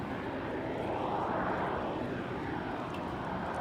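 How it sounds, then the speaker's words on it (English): A seaplane near Canada Place in Vancouver, heard as a steady, fairly distant engine drone with a broad rushing tone that swells and eases slightly. "another seaplane. I believe it just touched down."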